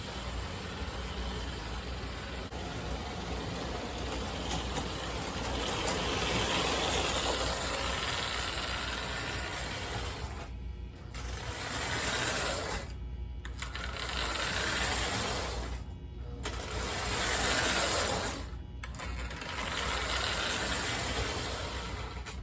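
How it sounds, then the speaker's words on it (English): A repaired Lionel 242 Scout toy train locomotive motor runs with a steady whirring, mechanical hum at close range, with several brief moments where the sound cuts out before resuming. "It's amazing if you don't have parts missing off of the motor, how much better it runs"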